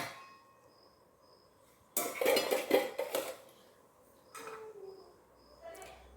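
Metal pots used for cooking ragi mudde clatter and clang together in a kitchen in a short burst of loud knocks, followed by a few quieter clinks.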